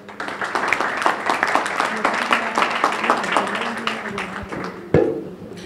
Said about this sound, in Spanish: recibamos con un fuerte aplauso al señor Kendrick Vázquez